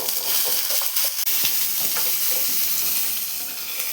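Shallots sautéing in a pan for a greens chutney, with a loud, steady sizzle and frying crackle running throughout, plus a brief scrape of stirring.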